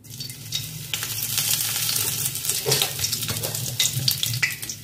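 Dry red chillies frying in hot mustard oil for taro leaf mishmash, a steady close sizzle with scraping stirs and brighter crackling bursts throughout, no voices.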